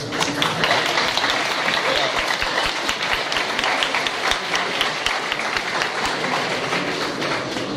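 Steady, dense applause from an audience fills the room at the opening of the 10th Month of Photography festival at Galeria Starmach. It is loud and continuous for several seconds.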